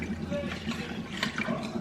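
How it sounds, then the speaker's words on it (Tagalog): Water is poured into a batter mixture while making kwek kwek: a steady splashing and trickling pour, close and continuous for the whole moment. "Tapos, lagyan ko ng kalahating tasa ng tubig."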